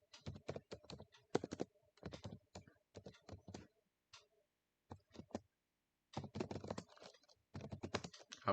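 Java code typed on a computer keyboard, near and fairly quiet, bursts of rapid key clicks separated by short pauses, with no talking.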